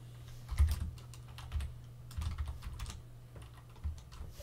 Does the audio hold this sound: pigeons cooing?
no